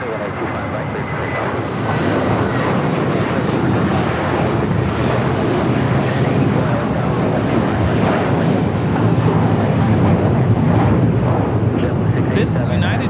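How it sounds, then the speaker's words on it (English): A United Airlines Boeing 757-300 climbs away from LAX with a heavy, continuous jet roar that swells slightly partway through and holds loud to the end, with some talk beneath it. "2113 taking off to Chicago on the 757-300"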